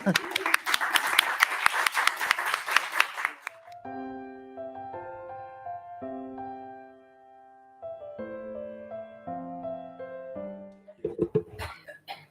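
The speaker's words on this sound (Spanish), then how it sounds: "Le damos un aplauso." Audience clapping at a book launch evening for "Ciclo Completo", a dense burst lasting a few seconds before dying away into sustained musical tones.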